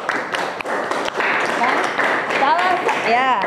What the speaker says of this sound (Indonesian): Tepuk tangan buat Dudi